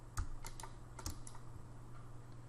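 A computer keyboard sounds a few scattered, faint key clicks, one sharper press standing out, quiet and close, with no talk.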